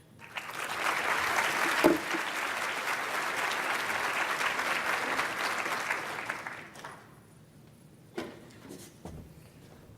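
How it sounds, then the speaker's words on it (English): An audience applauds the presenters at an event, with loud, dense clapping that swells for about six seconds and then dies away into near quiet, broken by a few scattered claps and knocks. "Another round of applause for all our presenters."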